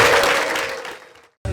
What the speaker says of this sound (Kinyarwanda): amashyi menshi menshi